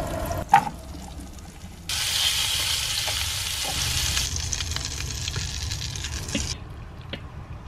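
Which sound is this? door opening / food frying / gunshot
food frying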